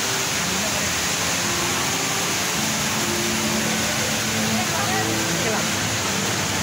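The world's tallest indoor waterfall at Jewel, Changi Airport, Singapore, roars as a steady, dense wash of falling water filling the space continuously, with faint voices murmuring beneath it.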